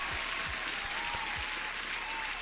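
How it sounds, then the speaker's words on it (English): A crowd applauds with steady, dense clapping that holds at an even level throughout. "Huge applause."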